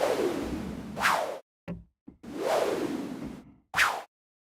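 A synthesizer whoosh preset called Whips plays two long sweeping noise swooshes, each ending in a sharp whip-like crack, separated by short clicks and silences, clean and alone.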